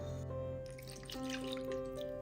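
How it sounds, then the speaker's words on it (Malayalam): Water pours steadily into a cooking pot while a breakfast dish is prepared, a soft continuous splashing and trickle with small drip-like changes, close and fairly quiet with no voices. "ഇനി ഇത് വേവിച്ചെടുക്കുന്നതിന് ആവശ്യമായ വെള്ളം ഒഴിച്ചു കൊടുക്കാം"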